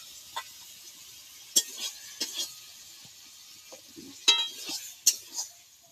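A spatula stirs ridge gourd and potato curry in a pan on the stove: quiet, scattered scrapes and light clinks against the metal at irregular intervals, over a soft, low kitchen hiss with long gaps between.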